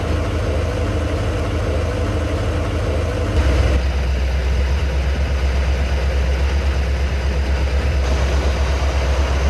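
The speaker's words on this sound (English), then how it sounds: "about a 750, 800 RPM idle on this manual F100 here" A manual Ford F100 truck engine with a carburetor idles at about 750 to 800 RPM with a steady low rumble, close and loud, its pitch dropping slightly partway through and then holding even.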